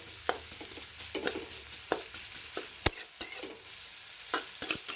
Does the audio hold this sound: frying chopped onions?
yes